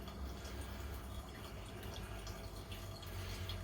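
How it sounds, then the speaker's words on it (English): Clear liquid pours into a filter and drains through it during silver recovery from IC chips, a soft continuous trickle and splash like running water, faint and steady with no talking. "it's draining through as I'm pouring it in"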